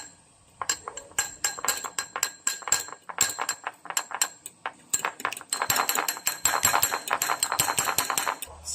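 Pork head marinade of annatto oil and oyster sauce is stirred in a bowl, a spoon clinking and tapping rapidly and irregularly against the dish, growing denser toward the end, with no voices.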